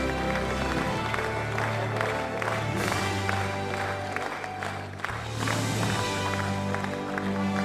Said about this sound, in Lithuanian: mes garsiai plojame nominantams ir nugalėtojui